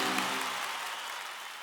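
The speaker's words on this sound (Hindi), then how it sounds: "इन सबके लिए जोरदार तालियां हो जाएं।" A crowd applauds a team of co-artists at a live Delhi comedy show, steady dense clapping that fades gradually over a short stretch.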